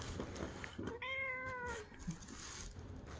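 A house cat gives a single clear, drawn-out meow, fairly close in a quiet indoor room, with no talk over it.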